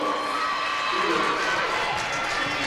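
Richfield fans cheer at a high school girls basketball game against St. Paul Central, a brief burst of crowd shouting and cheering echoing in a gym with a small audience.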